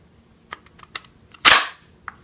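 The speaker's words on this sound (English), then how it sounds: "then you holster it" A Glock 42 pistol fitted with a Viridian laser is pushed into a Detroit Holster, giving one sharp, loud snap close by, with a few small clicks of handling before and after.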